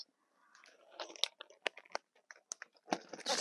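A large plastic package of knitting yarn and needles is pulled out, giving crisp crinkling and rustling bursts, close and irregular, building louder toward the end.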